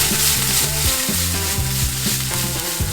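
Thinly sliced shallots sizzle loudly in a hot pan while being stirred, a dense continuous fry with rhythmic scraping strokes under a steady low hum.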